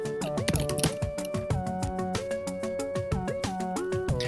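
Rapid clicks of typing on a computer keyboard, closely spaced keystrokes running steadily under a sustained background tone and music, moderately loud, no speech.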